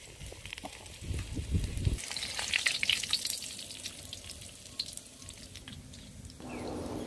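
Pork sizzling in hot oil as it browns and crisps for an Ilokano tofu-and-pork dish, a steady close frying hiss with a brief low clatter early on and no talking.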